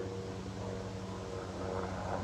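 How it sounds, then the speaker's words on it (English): An airplane passes overhead and is heard indoors through open windows as a faint, steady low drone with a constant hum that swells slightly toward the end. "Excuse the plane."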